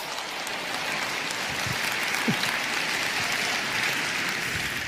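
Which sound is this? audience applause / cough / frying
audience applause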